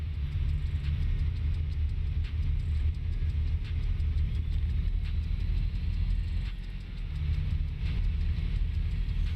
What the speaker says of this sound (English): Truck sounds great.